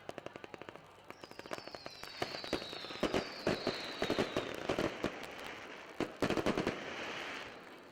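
Fireworks show at a high school varsity football game, with a rapid run of sharp bangs and crackling bursts over continuous crowd noise, plus a few rising whistles partway through.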